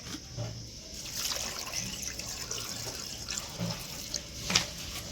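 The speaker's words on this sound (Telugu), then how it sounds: "దీంట్లో వాటర్ వేసుకొని పొయ్యి పెట్టుకోవాలి." Water poured into a pot for making raw mango juice, a faint, close trickling and splashing of liquid with small drips, no talking.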